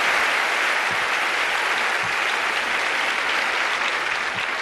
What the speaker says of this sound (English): let's have a big round of applause for all the winners tonight